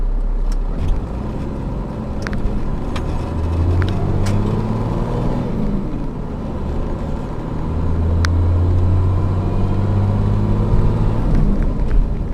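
A 12-valve Cummins diesel engine held at wide open throttle, a loud, deep, droning rumble with a rising tone that swells midway, plus some rattles and clicks. No one speaks.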